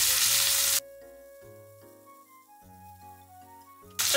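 Komatsuna greens go into a hot, oiled frying pan for a stir-fry with chicken. Loud, close sizzling bursts out at the start and again at the end, with quieter tonal sounds in between.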